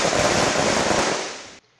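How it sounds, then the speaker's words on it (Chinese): A dense, rapid string of firecrackers crackles loudly and continuously for about a second and a half before cutting off abruptly. It was set off at a farmer's home to celebrate a gold-medal award for wendan pomelos. "鞭炮声夹带着恭贺声来恭喜今年新出炉的文旦柚金牌奖得主。"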